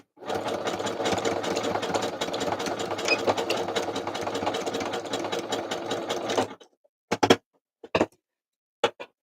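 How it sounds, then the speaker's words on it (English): A sewing machine stitches continuously in a rapid, steady whirring run for several seconds, then stops, followed by a few short clicks and knocks as the work is handled. "Sewing again."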